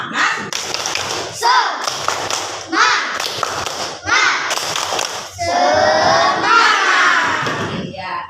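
Classroom children doing a rhythmic spirit clap, a patterned burst of claps and taps mixed with the kids' chanting and shouting voices, loud and close, with a teacher's voice leading.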